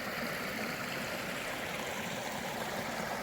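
Clear mountain stream flowing steadily, a dense, continuous rushing wash of water close by with no breaks and no voices.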